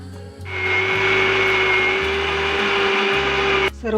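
An electric mixer whirs loudly while blending a mango ice cream mixture, starting abruptly after a short pause, holding a steady high whine for about three seconds, then cutting off.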